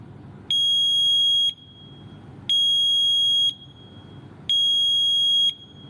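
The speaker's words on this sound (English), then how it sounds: "A working smoke alarm or a carbon monoxide alarm saves lives." A home smoke alarm sounds three loud, evenly spaced electronic beeps, each about a second long, over quiet room background.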